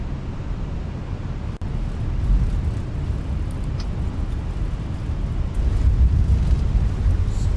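Airbus A320 reverse thrust roaring after touchdown in a flight simulator, a steady broad rumble that swells slightly toward the end, loud and continuous with no talk over it.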